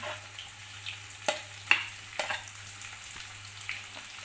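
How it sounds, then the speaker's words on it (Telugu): Carrot, onion, tomato and split green chillies fry in a pan for semiya upma, giving a soft, steady sizzle. Several sharp scraping clinks from stirring come through, with a low hum underneath and no voices. "అవన్నీ వేసి ఫ్రై చేసుకోవాలి బాగా"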